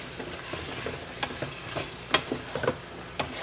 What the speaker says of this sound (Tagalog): Ilagay na natin yung bagu beans natin kasi siya yung matigas.